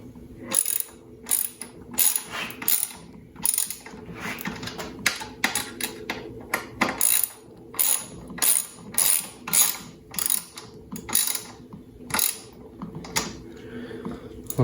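A screw is driven back into the fender of a Spark (Rize) Blade e-bike, giving a series of quiet, rhythmic ratcheting clicks in repeated bursts, close up and with no talk.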